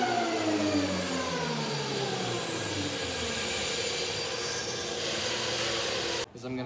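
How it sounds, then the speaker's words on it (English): A thickness planer runs a wooden board with a loud, steady whirring drone and a falling motor pitch as the cut proceeds, then cuts off abruptly near the end. "So now I'm just going to run this through the planer to make sure that it's all even"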